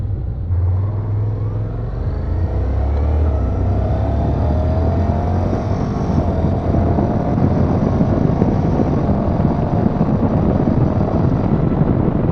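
A 2014 Honda CTX 700 DCT motorcycle cruises at highway speed, a loud, steady engine drone rising in pitch as it accelerates, buried in constant rushing wind.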